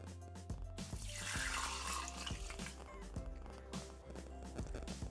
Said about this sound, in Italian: Iniziamo la ricetta mettendo all'interno del boccale l'acqua